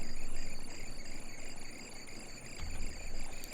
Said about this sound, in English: The chirping of grasshoppers, although not their usual one, a much louder, distorted version, as if it had been passed through a guitar amplifier.